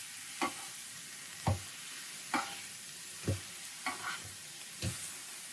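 Beef pieces frying in a pan right after being flipped: a soft background sizzle broken by six or seven distinct thuds and scrapes of turning meat, spaced about a second apart, close but fairly quiet.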